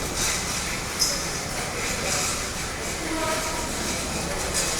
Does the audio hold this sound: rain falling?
no